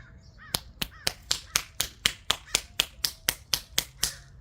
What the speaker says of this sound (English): I applaud myself